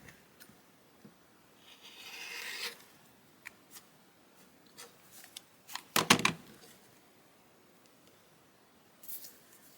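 Fabric cut with scissors while making a zipper pouch: quiet intermittent snips and rubbing, then a louder, sharper burst of cutting near the middle, with faint scattered handling noises and no talk.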